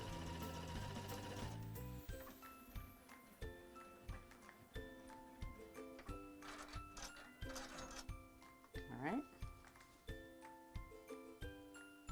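A sewing machine stitches fabric for a bunny ear table runner, running in a steady mechanical chatter with short pauses and restarts, close but fairly quiet, and no one speaks.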